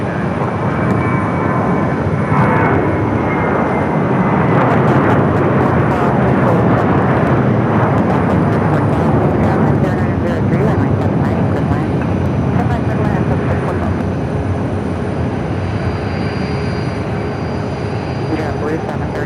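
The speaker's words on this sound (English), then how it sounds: "It's the flight heading to JFK and A321." An Airbus A321 jet airliner bound for JFK at Phoenix Sky Harbor roars loudly and steadily for about twenty seconds, a broad engine rumble with brief crackles, while a voice talks over it.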